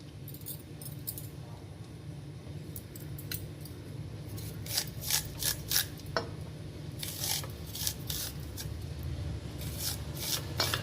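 A knife cutting corn kernels off the cob in a kitchen makes soft, irregular scraping and crisp slicing strokes, faint and close, with brief louder bursts in the second half.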